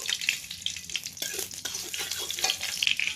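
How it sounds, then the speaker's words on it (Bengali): Oil sizzles in a hot wok (kadai) as greens begin cooking in a home kitchen, a bright, crackling hiss that stays steady and fairly close throughout, with no talk over it. "কড়াই গরম হয়ে গেছে তেল দিয়ে দিলাম"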